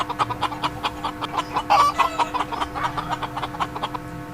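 A chicken clucks repeatedly in a steady, busy rhythm, with a brief crowing-like call in the middle, moderately loud and alone.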